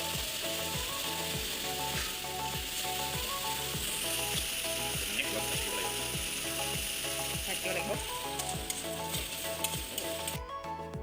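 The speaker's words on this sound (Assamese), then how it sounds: "এয়া আদা নহৰু পেষ্ট ঢালি পেলাই পুৰা কেৰাহী লুটি খাই যোৱালৈকে ঘূৰাই লৰাই আছে" Ginger-garlic paste fries in a kadai with a steady, close sizzle while a spatula scrapes and stirs in a regular rhythm, rasping strokes repeating about every half second.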